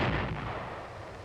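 An M551 Sheridan armored reconnaissance airborne assault vehicle launches a guided missile, a single loud, close blast whose heavy roar decays slowly over about a second, alone without voices.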